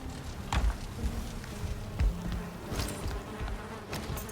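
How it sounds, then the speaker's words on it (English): Bees buzz in a steady insect drone in the video game Valheim, bees on a beam, a faint continuous hum with a few brief clicks and knocks scattered over it. "Bees on a beam."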